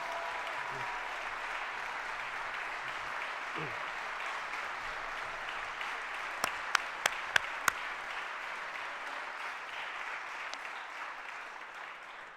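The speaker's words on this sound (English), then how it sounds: "Let's give these guys another round of applause as they get off this stage" Audience applause at a 2019 State of the City address as performers leave the stage, a steady sustained wash of clapping across the whole stretch, with a few sharp louder claps standing out near the middle.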